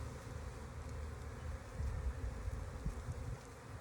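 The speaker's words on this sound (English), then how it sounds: "I love it when you pick up a piece of comb and you manage to grab a bee." Honey bees buzz steadily around a hive comb during a messy transfer, a dense, continuous low drone of many insects close by, swelling slightly midway, with no voices.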